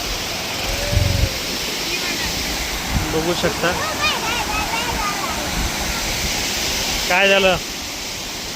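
Dabosa waterfall near Jawahar gives a steady broadband rush of falling water, modest in flow, heard throughout with a person speaking briefly over it and birds chirping.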